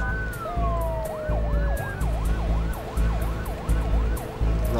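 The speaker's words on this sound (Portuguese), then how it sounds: "A ambulância que eu pedi apoio está aí a chegar." Ambulance siren in the Emergency 4 video game with a Portuguese mod, wailing in steady rising and falling sweeps over a low engine rumble as the vehicle arrives, loud and continuous.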